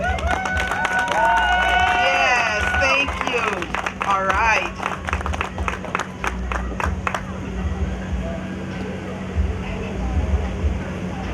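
An audience claps in short scattered bursts at a community awards program held by an Africana elders council at an African village festival, mixed with crowd murmur and spoken voices.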